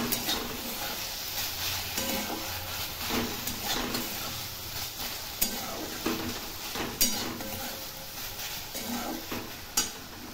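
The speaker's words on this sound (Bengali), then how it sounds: "তো বন্ধুরা আবার কলমি শাক ভাজা হয়ে গেছে।" Water spinach (kalmi shak) fries in a pan with a steady hiss and sizzle while a utensil stirs and scrapes at intervals, close and without talk.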